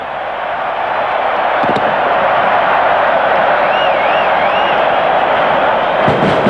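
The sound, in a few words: stadium crowd cheering after a rugby league try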